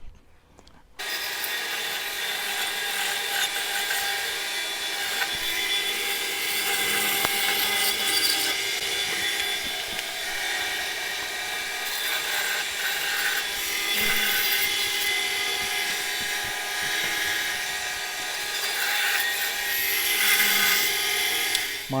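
A saw fitted with a 20mm (3/4-inch) blade cuts through a green log to make bowl boards, a loud, continuous, close whining and rasping roar that starts abruptly and runs unbroken to the end.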